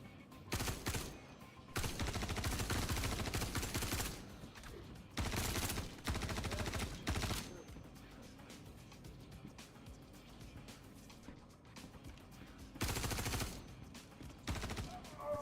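Light machine gun fire in Star Citizen: loud, sustained automatic bursts lasting several seconds each, broken by short pauses with quieter background rumble between them.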